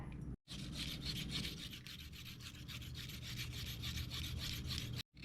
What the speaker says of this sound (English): You see how it's peeling up the carrot real fast like that?